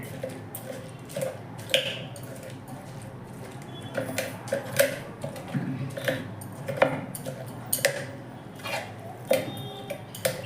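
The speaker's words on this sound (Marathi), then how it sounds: "सांडशीने तवा धरून असे खरडायचे आहे" A metal pot or cup scrapes across a hot iron griddle (tava) held with tongs while a chili thecha is made. Short rhythmic metallic scrapes and clinks repeat at intervals, close and fairly quiet, with no talk.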